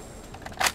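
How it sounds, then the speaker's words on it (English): A weapon reload in Rainbow Six Mobile: a short, bright mechanical clack of a magazine or bolt, close and brief, preceded by a couple of faint clicks over quiet game ambience. "Reloading."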